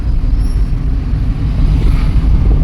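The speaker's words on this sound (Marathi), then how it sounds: "इकडे गाड्या येतात पाठीमागून" Road traffic passes behind a moving vehicle, a steady low rumble of engines and tyres filling the background with a slight swell near the end.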